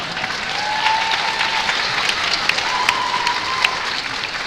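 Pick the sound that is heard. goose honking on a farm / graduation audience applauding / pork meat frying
graduation audience applauding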